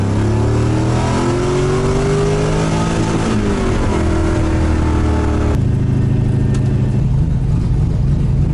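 An LS V8–swapped Mazda Miata driven hard, the engine loud and close, revving up through the gears with rising pitch before a shift and steady high-load drone.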